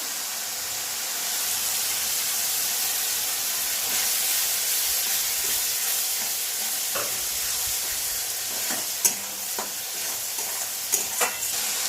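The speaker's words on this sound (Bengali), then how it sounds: "এবার দিচ্ছি একটু টমেটো বাটা" Tomato paste sizzles and hisses in hot oil in a pan for a duck egg curry, a steady bright frying noise with occasional stirring clicks and scrapes toward the end, close and continuous.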